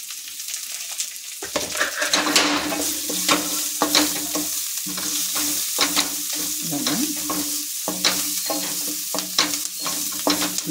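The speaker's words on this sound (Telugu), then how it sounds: "బాగా వేగక్కర్లేదు, కొంచెం లైట్గా వేసుకోవాలి" Potatoes fry lightly in a pan with turmeric and salt, giving a steady close sizzle broken by repeated scraping stirs of a utensil against the pan, with no talk over it.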